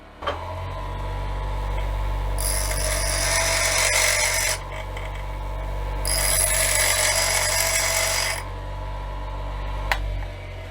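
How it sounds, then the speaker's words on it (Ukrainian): A bench grinder powered through a 2000W inverter from a 12V car battery whirs up to a steady high-pitched spin, winds down, then starts again for a second run, ending with a sharp click. "запуститься це точило чи ні"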